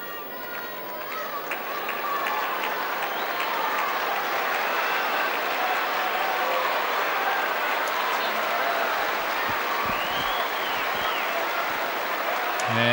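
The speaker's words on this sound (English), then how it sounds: "the crowd is cheering on Martina Navratilova" A tennis crowd at a 1989 quarterfinal cheers and applauds Martina Navratilova in a sustained, dense roar that swells early and holds steady throughout, with a commentator's voice underneath.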